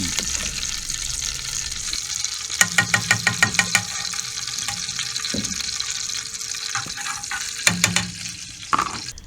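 Hot ghee crackling in a wok, a continuous sizzle broken by bursts of rapid clicking and spattering, close and fairly loud.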